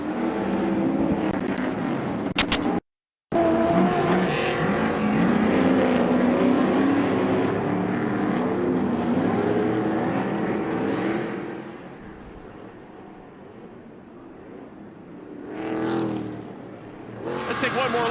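Stadium Super Trucks roar through a race, engines revving and droning loudly with shifting pitch under continuous excited commentary, with a brief dropout and a later surge as trucks pass.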